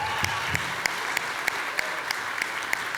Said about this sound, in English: Let's get one last round of applause for all the contestants today.